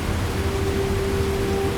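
Rain on a British steam train at night: a steady broadband wash of rainfall mixed with a low, even rumble and a faint sustained tone, continuous throughout with no voices.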